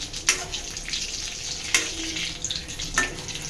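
Gola kebab frying in oil, a soft continuous sizzle broken by three sharp clicks or scrapes of a utensil spaced about a second or more apart.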